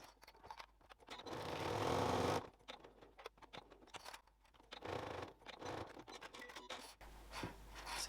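A sewing machine stitching bag lining runs in a short, quiet whirring burst of about two seconds. Faint handling, rustling and scraping of fabric follow.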